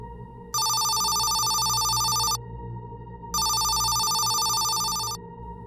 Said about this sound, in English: the phone rang again.